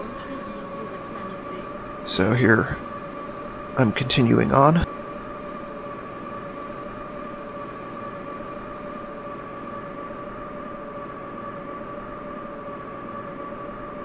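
A subway train runs in the WAPP Subway Simulator video game, giving off a steady, looped electric hum with a constant tonal whine throughout. Someone talks briefly over it in two short bursts.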